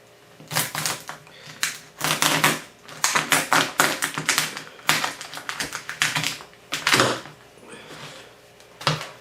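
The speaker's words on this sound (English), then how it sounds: "what I'm going to do now is cut it right in half" A sharp knife cracks and crunches through a steamed lobster shell to split it in half, giving a run of close, loud, irregular snapping and crushing bursts with short pauses between them.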